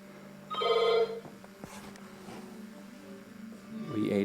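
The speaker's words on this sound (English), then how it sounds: "Oop, the phone's ringing." Telephone ringing indoors in a house: a short, bright ring burst near the start, then quieter room sounds and another faint trill near the end.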